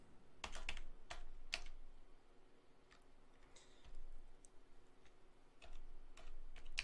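Code being typed on a computer keyboard: quiet, close key clicks in short irregular bursts with pauses between them, alone without speech.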